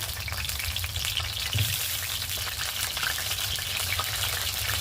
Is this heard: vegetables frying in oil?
yes